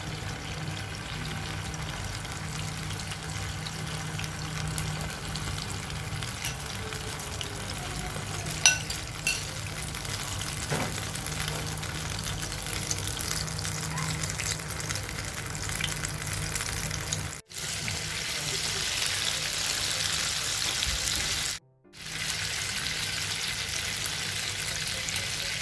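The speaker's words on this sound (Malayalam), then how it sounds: "മുട്ട ഇങ്ങനെ വറുത്ത് വരുന്നുണ്ട്." Eggs fry in hot oil in a pan for a Kerala egg roast, giving a steady, even sizzle throughout with a couple of brief clicks and two short dropouts.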